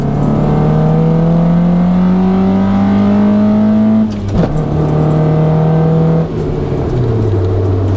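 A car engine revs up in a rising whine, holds, drops, then revs again before settling back to idle; loud and close.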